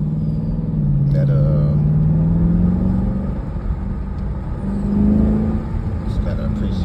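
A 2021 Dodge Durango SRT engine revving, a deep rumbling drone that rises and falls in pitch over several seconds, with a second swell near the end, loud and close.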